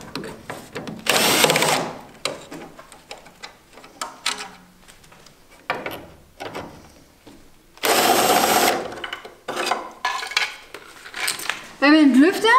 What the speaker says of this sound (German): Die schraubt man mit einer 8er-Nuss raus.